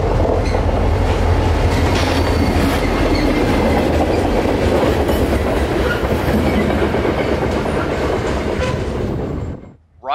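Local freight train 0719 hauling an empty tank car passes close by, a loud continuous rumble with clickety-clack of wheels over rail joints, fading abruptly at the end.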